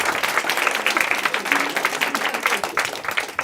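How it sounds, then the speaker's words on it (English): Wedding guests give the bridesmaids a sustained round of dense, loud applause that fills the whole stretch without letting up, from a crowd of many hands clapping at once. "would you put your hands together for these stunning bridesmaids today?"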